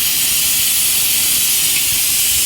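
A pressure cooker cooking meat vents steam in a loud, steady, continuous hiss that runs unbroken throughout.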